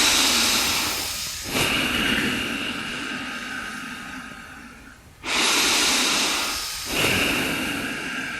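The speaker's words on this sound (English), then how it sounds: "Put both hands on your knees and breathe from both the nostrils." Slow, deliberate breathing through both nostrils during a nine-round breathing exercise at a meditation retreat, with long hissing breaths close to the microphone, some fading while others swell sharply, and no talking.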